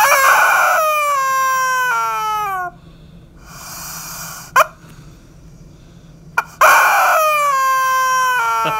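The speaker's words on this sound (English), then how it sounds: "I think I did bring this rubber chicken on the show before." A squeaky rubber chicken toy is squeezed into loud, strained squawks: a long squawk, a second burst, quiet squeezing gaps, then another long squawk at the end, with no talking.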